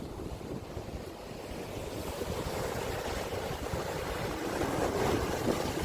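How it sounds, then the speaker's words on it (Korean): Sea waves roll and wash at Bogildo island, a continuous rushing surf with wind buffeting the microphone, swelling slightly louder toward the end. "이런 파도를 즐기고 싶은데 파도가 잠잠해버리면 허사거든요"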